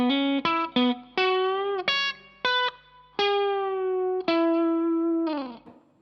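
Slow country lick on electric guitar with string bends, played as a series of clean, sustained single notes that bend up in pitch, ringing out alone with a little effect and reverb.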